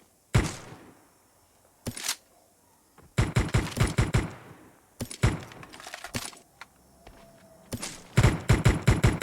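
Bursts of gunfire in a battle royale video game, with sharp single shots and rapid automatic volleys coming in clusters separated by brief quiet gaps, loud and close.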